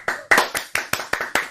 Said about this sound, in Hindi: दोनों दोस्तों के लिए जोरदार तालियां।